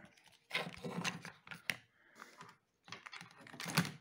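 Plastic keypad cover of a Telecom videophone being pried off after its screws were removed, a run of clicking, scraping and crackling bursts of plastic parts working loose, close and fairly quiet with short pauses.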